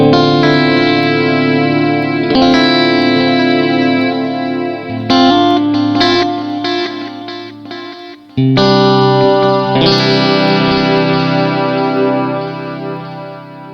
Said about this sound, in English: So you have this ping pong kind of sound, and the delays are panning from left to right and back again